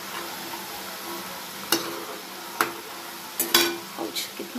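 Oil sizzling in a pan while cooking honey sweet snacks at night, a low steady sizzle broken by several sharp spoon clinks and scrapes toward the end.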